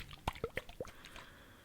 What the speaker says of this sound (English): I do really like water sounds